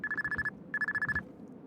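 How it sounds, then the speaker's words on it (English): A telephone ringing indoors, two quick trilling rings in a row, fairly faint and clear with no talking. "Phone rings."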